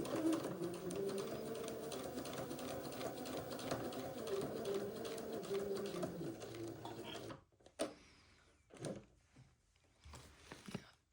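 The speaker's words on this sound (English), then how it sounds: "with a 1/4 inch seam, I'm going to sew these side seams" A sewing machine stitches side seams on an Eton suit with a 1/4 inch seam allowance, running in a steady, quiet mechanical whir for about seven seconds, then stopping, followed by a few faint handling sounds.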